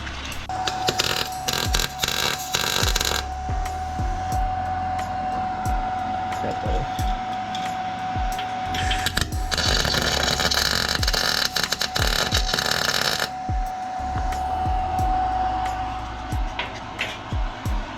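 A Harbor Freight welder tack welding rock sliders onto a third-generation Toyota 4Runner, with bursts of harsh crackling buzz that start and stop over a steady electrical hum, close and loud.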